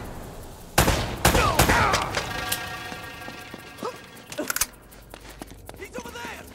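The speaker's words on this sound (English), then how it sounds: "They're shooting at you too, you know." Sharp bursts of gunfire crack through a firefight in Uncharted: Drake's Fortune, several loud shots clustered early and scattered pops later, with a voice speaking amid the shooting.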